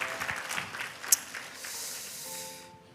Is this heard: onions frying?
no